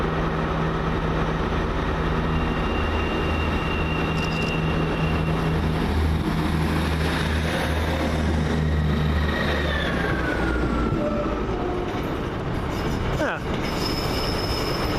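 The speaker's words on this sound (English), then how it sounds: "And now leaving with the 1448 First Great Western service to Weymouth is" A First Great Western class 158 diesel train pulls out of Bristol Temple Meads station: a loud, steady engine drone with rolling wheel noise and squealing wheels, continuous throughout, with a brief high screech near the end.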